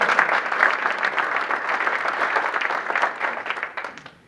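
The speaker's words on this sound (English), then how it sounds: "Let's give Jim a round of applause." Applause from an audience at a Rotary club meeting, a dense burst of clapping that holds steady for several seconds and then tapers off near the end.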